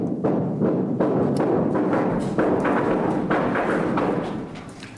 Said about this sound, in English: when his explosives finally detonated